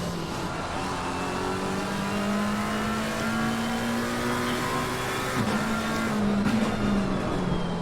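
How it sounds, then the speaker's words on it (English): Race car engines howl around the Suzuka circuit, a steady high-revving drone with rising and falling pitch through gear changes, cars passing at moderate distance with continuous engine noise throughout. "so we can listen to the beautiful engines of these cars"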